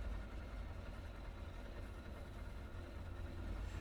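Trimotor airplane engines idle in a flight simulator game, producing a low, steady, faint rumbling drone with no other sounds.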